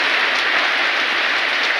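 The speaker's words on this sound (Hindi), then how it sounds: "बहुत तेज बारिश है इधर हमारा" Heavy rain pouring down during a storm in Jajpur, Odisha, a dense steady hiss with no break, loud and close, with no voices over it.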